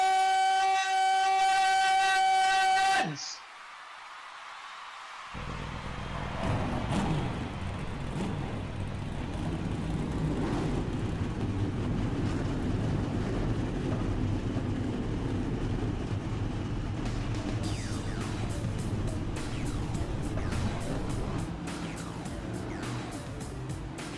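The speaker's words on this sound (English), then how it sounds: "drivers, start your engines!" After a brief electronic tone, a loud, steady roar of many racing car engines in the iRacing video game drones on continuously at an eNASCAR race start at Atlanta, with higher whines rising over it.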